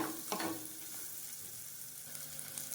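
Onions and green chilies frying in a pan for chicken sodhi, a soft continuous sizzle with a few faint stirring scrapes, quiet and steady with no talk.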